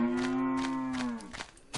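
Cattle mooing in a herd, one long loud close moo that slowly falls in pitch, followed by a quieter, shorter lowing near the end.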